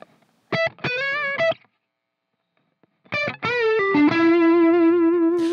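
An electric guitar plays a short lick with effects-processed distortion: a quick run of bent notes, a pause, then a repeated phrase ending on a sustained note, clear and alone.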